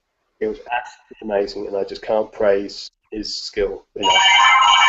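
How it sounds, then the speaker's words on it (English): A telephone rings during a live magic Q&A session. Someone talks at length first, then a steady, bright electronic ring starts near the end and carries on alone. "All right, that's our phone."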